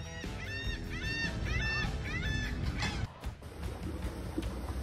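Gulls give a series of repeated, laughing calls, fairly close, followed by a rumbling background with a faint high whine.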